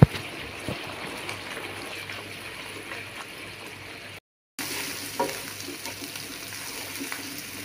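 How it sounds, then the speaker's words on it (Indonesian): Ground spice paste sautéing in oil in a pan, a continuous low hiss and crackle of frying with faint stirring, broken by a brief moment of silence partway through, no one talking. "Tumis bumbunya sampai harum dan warnanya kecoklatan ya."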